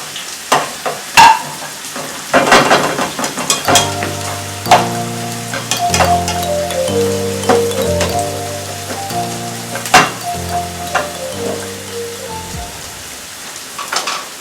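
Garlic fries in a pan for bacon pasta with a continuous close sizzle and spatter, scraped and stirred now and then, while a soft melodic tune plays underneath.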